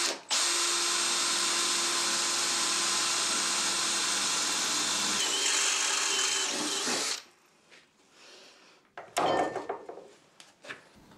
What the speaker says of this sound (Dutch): nu begin ik pas te boren met de andere kant